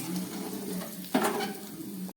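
Bitter gourd frying in oil in a kitchen pan, a soft continuous sizzle with a brief louder scrape or stir midway before it cuts off.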